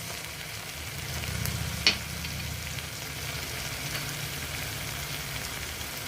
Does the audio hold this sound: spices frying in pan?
yes